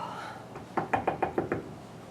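Knuckles rap on a door six times in quick, fairly even succession, close and crisp, following a brief quiet pause with no talk.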